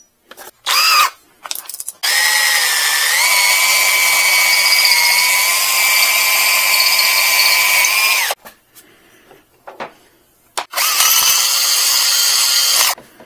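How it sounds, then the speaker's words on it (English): A power drill bores out a part on a Daihatsu micro van, running in a loud, steady whining burst of several seconds between short starts and stops, with no talk. "Drill this out."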